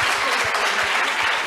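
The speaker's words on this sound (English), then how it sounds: "Let's clap for Jesus" Audience clapping in a church gathering, a dense, steady burst of applause filling a large room without a break for about a second and a half.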